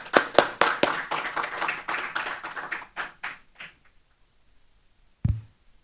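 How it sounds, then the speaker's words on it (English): At an ASEAN energy conference, audience members clap as a presenter is invited to the stage. The claps start sharp and fairly loud, then thin out and fade to a few scattered strokes, followed by a single late thump. "please give a round of applause, everyone"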